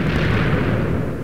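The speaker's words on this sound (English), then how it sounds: "All I can see are explosions and the shadow." Explosions in a Minecraft custom map, heard as a dense, loud, continuous rumble of blasts that fills the whole brief moment with no talk.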